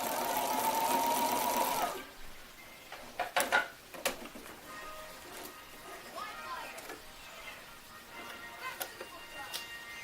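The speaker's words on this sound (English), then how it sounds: "finish your stitching with some more stay stitching" A sewing machine doing stay stitching on a T-shirt runs with a steady close whirring hum for about two seconds, then stops, followed by scattered clicks and handling noises.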